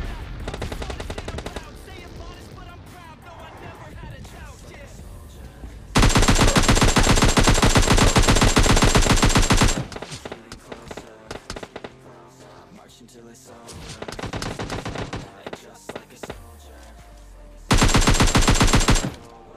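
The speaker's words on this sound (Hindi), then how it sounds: "फिर से यहाँ पर शॉटगन का चलने की आवाज़ आती है" Shotguns and other guns fire in a battle royale game, in sharp loud bursts of repeated shots that arrive in several clusters, with quieter game sounds filling the gaps between them.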